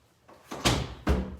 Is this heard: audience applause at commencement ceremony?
no